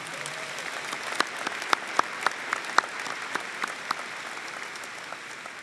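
An audience at a high school graduation ceremony claps in fairly light, scattered applause, with a few sharper individual claps standing out over a soft crowd background.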